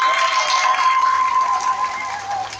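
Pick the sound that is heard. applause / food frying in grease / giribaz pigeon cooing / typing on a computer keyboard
applause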